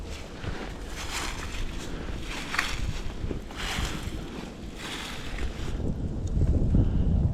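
Cold wind gusts steadily across a miners' cemetery in McConnell, West Virginia, a broad continuous rush with buffeting on the microphone that builds toward the end, with no voices.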